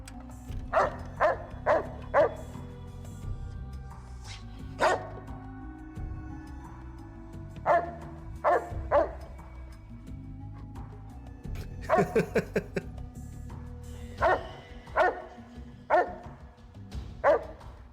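Dogs barking in the video game Fallout New Vegas, repeated short barks and yips in uneven bursts, some in quick clusters, over a low steady game hum, moderately close but not loud.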